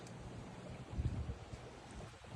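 Strong gusty wind blowing across an open backyard beside water and a dock, a steady broadband rush with buffeting surges near the mid-point and no voices.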